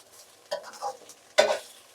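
Rice being stirred into a frying pan for restaurant-style veg fried rice, heard as two short scraping stirs about a second apart with a faint sizzle between them, close and alone.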